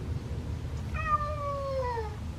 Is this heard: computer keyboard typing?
no